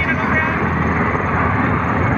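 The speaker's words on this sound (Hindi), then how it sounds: "हेलीकॉप्टर भी आ रहा है ऊपर से, उधर प्लेन भी है।" A constant broadband roar of aircraft overhead, loud and steady, with a continuous engine drone that sounds like helicopter and airplane noise mixed together.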